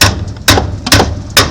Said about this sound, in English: Couple more whacks with the big hammer.